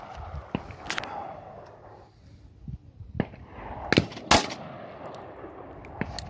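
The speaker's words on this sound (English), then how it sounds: "All right, so let's take some shots." Gunfire rings out at an outdoor shooting range: several sharp, separate shots at irregular intervals, some distant and some louder and closer, with quiet gaps between.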